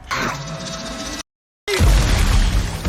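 A loud, deep boom of a body exploding in the film Until Dawn (2025) bursts out after a brief silence, rumbling low and heavy, preceded by a whooshing sound effect.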